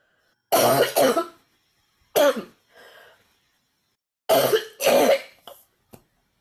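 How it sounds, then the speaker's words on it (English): A person coughs and clears their throat several times in loud, close bursts separated by short pauses, with a softer sound in between. "I don't know why I'm coughing so much"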